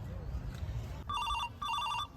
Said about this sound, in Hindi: कहलूँ फोन बाज रहा है यहाँ के